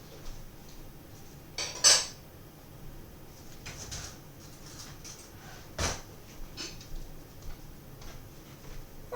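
Fork clinking and scraping in a bowl while mixing melted margarine into a cheesecake crust, sparse light taps and scrapes at irregular intervals against a quiet room.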